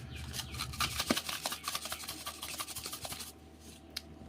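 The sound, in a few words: hand-mashing black plums with chillies and salt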